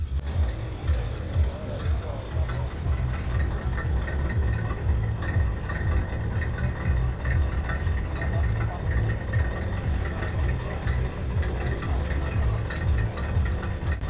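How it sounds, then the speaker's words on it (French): A pickup truck engine idles steadily with a low, constant rumble and faint rattle throughout, fairly close and without pause. "Écoute ce ralenti, tiens."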